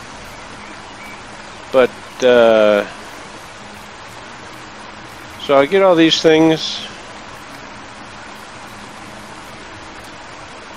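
Flowing water in the video game ECO, a steady loud rushing stream that fills the whole clip, with a person talking briefly over it twice.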